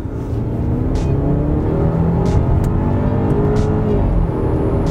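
A 2019 BMW X3's engine revs hard and accelerates steadily, loud and close, with a continuous rising drone and whirring road noise throughout.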